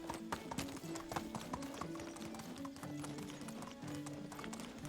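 A horse galloping in the video game Medieval Dynasty, with continuous rapid hoof clip-clops over a quiet background music tone.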